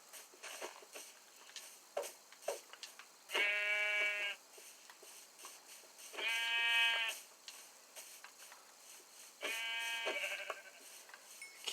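Three loud, drawn-out sheep bleats from the video game Minecraft, evenly spaced over a quiet background of faint game ambience and small clicks, with no talking.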